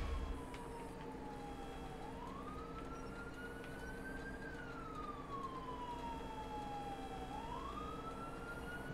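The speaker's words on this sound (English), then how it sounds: "There's a siren somewhere." A video game emergency vehicle siren wails in slow rising and falling sweeps, steady and somewhat distant, over a constant low hum.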